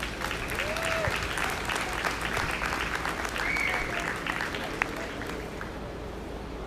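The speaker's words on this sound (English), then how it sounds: "give him a round of applause" Steady applause rises from the crowd at a 4-H and FFA dairy cattle show, moderately distant and sustained, with faint voices in the background.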